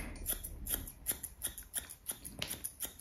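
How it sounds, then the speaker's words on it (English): Thinning scissors trim the face hair of a Lhasa Apso and Maltese cross dog, giving a quiet, close series of crisp metallic snips at a steady, quick rhythm, with no talking. "thinning scissors are fantastic for doing faces because you can just keep taking little bits away at a time"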